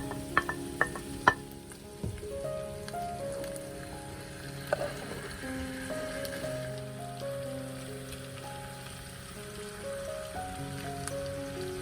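Onions and tomatoes sizzle and crackle steadily in a hot pan, with a few sharp clinks of a utensil early on and no talking.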